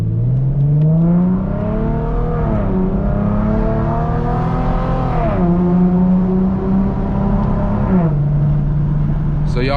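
An Infiniti G37X fitted with Vibrant resonators drones loudly while driving, its exhaust tone rising and dropping through gear shifts, heard close and steady.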